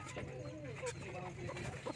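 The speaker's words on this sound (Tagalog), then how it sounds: "Ito yung ating Rhode Island Red, no?" A Rhode Island Red hen gives soft, low clucks and short warbling calls, near and fairly quiet, with faint background noise.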